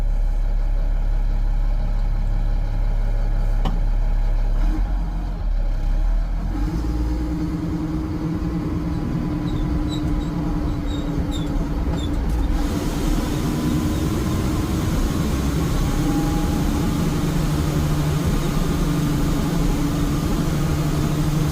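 An FMTV military truck converted for overlanding drives along, its engine a steady loud drone with road rumble throughout and no talking.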